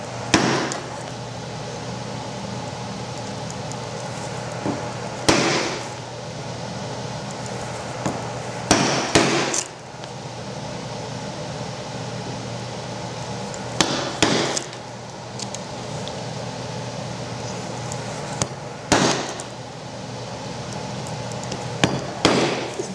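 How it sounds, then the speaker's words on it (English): A chisel struck repeatedly with a mallet while cutting an undercut wooden joint for a Shaker candle box: sharp, fairly loud blows come in small clusters every few seconds over a steady background hum, with no talking. "now we're going to lean this chisel about 5 degrees in that direction, because we want to undercut this joint to the middle"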